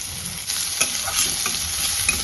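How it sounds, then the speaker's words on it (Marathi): Finely chopped onion sautés in a pan with a bright, continuous sizzle, broken by soft scrapes as it is stirred. "आता कांद्याला व्यवस्थित आपल्याला परतून घ्यायचं।"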